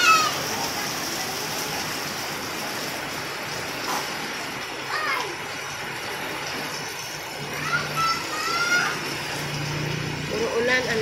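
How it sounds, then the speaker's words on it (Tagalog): Steady, dense rainfall hisses across the whole clip, with water noise throughout and a few faint higher chirps and bursts on top. "Puro ulan, ang lakas."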